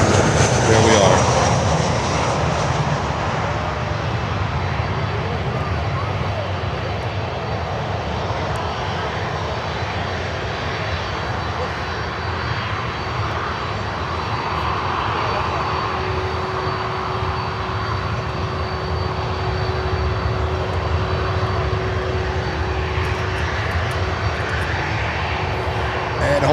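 A Lynden Air Cargo L382G turboprop cargo plane passes with a steady, loud droning engine roar that holds constant throughout, a broadband rush with a faint sustained tone running underneath.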